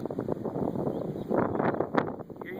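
Strong gusting wind buffets a handheld microphone on a dry, windy day in the California hills, a continuous loud roar of broadband rumble that swells and surges throughout.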